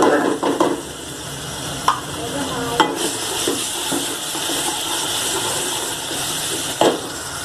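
Onions browning in a pan give a constant bright sizzle, close up, with a few sharp spoon clinks and stirring scrapes now and then.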